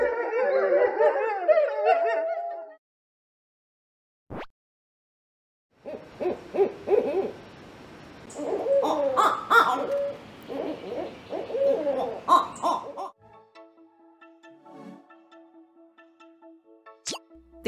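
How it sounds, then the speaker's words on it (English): An owl hoots in a series of soft, low calls that build into a burst of hoots and cries over several seconds, followed by faint repeated beeps. "The answer here is D, owl."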